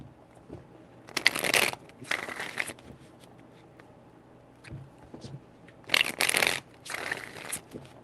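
Crisp bursts of tarot cards being riffle-shuffled up close, two clusters separated by quieter handling and brief taps, with no voices.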